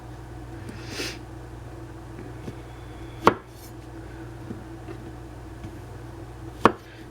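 A knife chopping ingredients for a stovetop fried chicken pie, two sharp, isolated strikes on a board a few seconds apart against a quiet, humming room.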